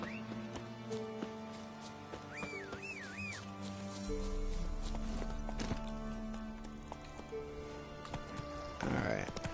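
Rhythmic hoof clip-clops of a horse moving at a steady pace in The Witcher 3: Wild Hunt, with game music and sound effects layered around them.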